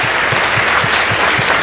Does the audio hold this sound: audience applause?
yes